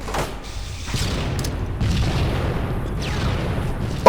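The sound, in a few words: grenade explosion in Halo 2 video game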